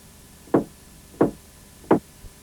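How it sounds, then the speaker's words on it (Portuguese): Knocking on a house door, three sharp, evenly spaced knocks with a fourth faint tap at the end, close and clear against a quiet background. "Tinham acabado de comer e de levantar a mesa quando ouviram bater à porta."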